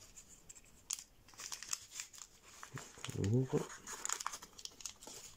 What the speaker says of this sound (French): on va faire un pli inversé intérieur